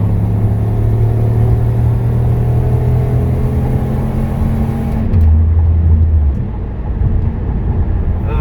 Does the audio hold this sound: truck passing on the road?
yes